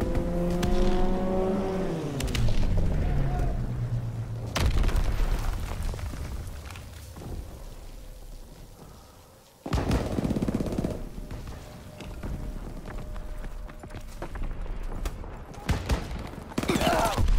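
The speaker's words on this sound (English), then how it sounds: "Enemy strafing run incoming." Enemy aircraft strafing run in the Call of Duty: WWII game, a loud roaring engine pass with bursts of heavy machine-gun fire and impacts, cutting out briefly before another loud rumbling burst of gunfire and explosions.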